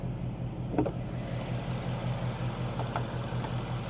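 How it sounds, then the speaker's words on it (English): A 2023 Ford Mustang GT 5.0-liter V8 idles with a low, steady exhaust rumble and a faint pulsing throb, heard close by without any talking. "this exhaust is one of the best sounding exhausts I've ever heard"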